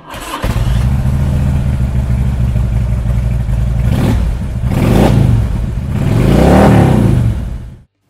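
A 2005 Harley-Davidson Electra Glide Ultra Classic (FLHTCUI) V-twin engine idles loudly and close, then revs up in three swelling bursts before cutting off abruptly, with no talk.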